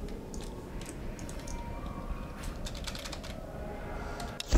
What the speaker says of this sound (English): Press every single button on the keyboard to see if something works.